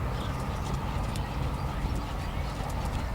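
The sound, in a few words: dressage horse hooves in extended trot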